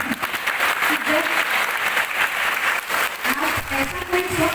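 Applause from an audience at a Foundation Day celebration speech, a steady, dense clapping that fills the whole stretch, with some crowd murmur underneath.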